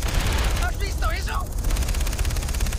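Rapid gunfire in the Far Cry 3 video game rattles as a dense, continuous fusillade throughout, with a voice speaking briefly over the shooting.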